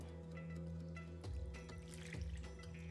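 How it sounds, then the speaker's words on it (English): Sauce is poured from a container over kafta stacks in a baking dish, a faint, steady liquid trickle with a few splashy bursts, quiet and close with no talk. "we're going to pour that over our kafta stacks"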